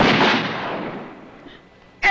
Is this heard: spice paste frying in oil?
no